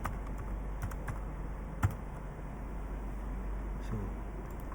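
Computer keys tapped in a short burst of typing, a handful of light clicks with one sharper press, faint against a steady background hiss, no talking.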